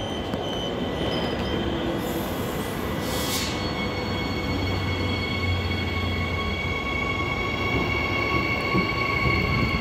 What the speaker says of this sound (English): We have EMU 97 and EMU 99 now leaving platform 1 for a Perth service